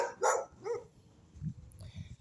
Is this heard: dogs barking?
yes